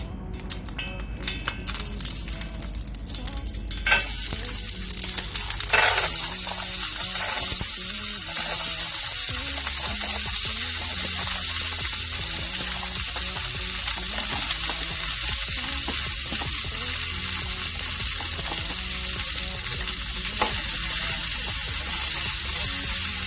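Groundnuts fry in a little oil in a pan, giving a steady bright sizzle that runs for the whole stretch after a few clatters and splashy stirring sounds at the start, close by and with no voices.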